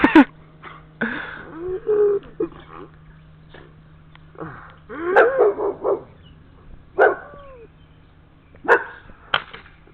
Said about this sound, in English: there's a doggy. My neighbor's doggies.